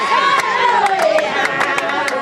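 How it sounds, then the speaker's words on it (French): A jubilant crowd in Kouram, Nara-Est, welcoming a ministerial delegation, with loud massed voices, shouts and a rhythmic beat of claps or drums close by, under a person speaking over them. "À Kouram, dans le Nara-Est, c'est une foule en liesse qui accueille la délégation ministérielle."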